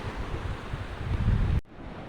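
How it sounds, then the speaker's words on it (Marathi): Sea waves crash against rocks near a fishing jetty, a close, steady roar of surf and wind that swells and then cuts off abruptly, with no voices. "पूर्ण पाणी एकदम खडकावर आदळते जोरजोरात"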